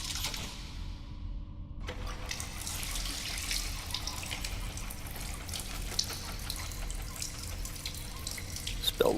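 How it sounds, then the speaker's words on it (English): Water spills and trickles in the video game STASIS, a faint, steady stream with scattered drips and a sudden change in flow early on, with no voices present. "Spilled water there."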